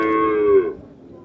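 A young hybrid bull calf gives a single short, close moo that fades after under a second, with no voices around.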